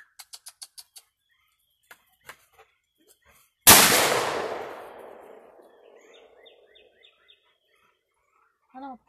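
A single loud, sharp gunshot from a Ruger Old Army revolver cracks out nearby and rings off into a long, fading tail, while birds chirp and call outdoors before and after the shot.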